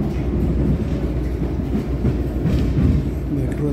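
A Chicago CTA metro train pulls into Kimball station, giving a steady, loud low rumble of rolling cars with faint wheel clatter throughout, and no talk over it.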